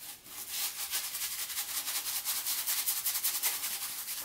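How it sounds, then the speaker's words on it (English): A badger shaving brush scritches against skin in quick repeated strokes, a close, bright rhythmic rasp with no talking. "I do love me a good scritch on a good badger brush."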